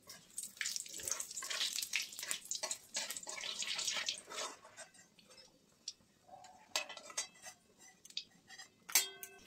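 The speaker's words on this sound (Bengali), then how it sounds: "প্রথমে আমি কালো জিরে ফোড়ন দিলাম, তারপর দুটো শুকনো লঙ্কা দিয়ে দিলাম।" Nigella seeds and two dried red chillies tempering in hot mustard oil in a kadai, village-style Bengali cooking. A close, steady hissing sizzle for about four seconds fades into sparse, sharp pops and crackles, with no talking.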